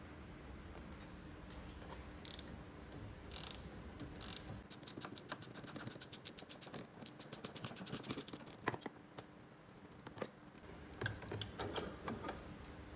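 Two 18mm nuts being undone with a spanner on a car suspension: quiet, rapid ratcheting clicks in bursts, with faint metallic scraping and rattling between them, close up and without speech.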